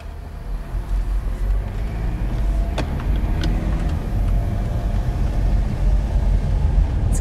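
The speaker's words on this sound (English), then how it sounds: "We're taking the car for a little spin to see how it drives, how it handles" A 2021 Mercedes-Benz GLC Coupe on the move, heard as a steady low road rumble and engine drone from inside the cabin with no talk and a few faint clicks along the way.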